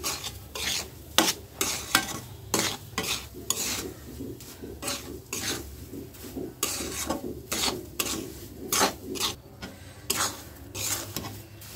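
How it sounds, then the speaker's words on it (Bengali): Dry semolina being fried in a pan with two or three bay leaves, a spoon scraping and stirring in quick repeated strokes with a soft sizzle underneath, close and without talk. "এখন 2-3টা তেজপাতা দিয়ে দিলাম। আস্তে সুজির সাথে ভেজে নিচ্ছি।"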